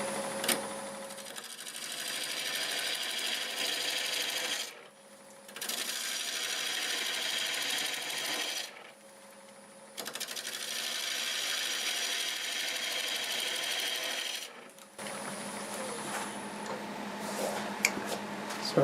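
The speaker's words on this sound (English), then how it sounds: "I just sharpened up my 1/2 inch bowl gouge, and let's see what we can do here. 750 RPM." A lathe turning olive wood at 750 RPM, trimmed with a freshly sharpened half-inch bowl gouge, giving a sustained buzzing scrape in three long passes with short pauses between, close and steady, with no talking.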